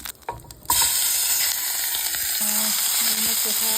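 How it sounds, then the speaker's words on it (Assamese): Goat meat hits hot oil seasoned with panch phoron, bay leaves and dried red chillies, and a loud, steady sizzle starts up after a few soft clatters and keeps going close to the mic. "মাংসখিনি ইয়াতে ফ্ৰাই কৰি প্ৰায় মই 20 মিনিটমান সিজিবলৈ দিম"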